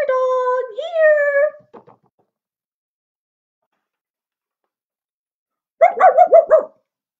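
A storyteller's voice imitates a dog barking: a short burst of five or six quick, close woofs in a farmer-and-potato children's tale, following a few seconds of silence after calling speech.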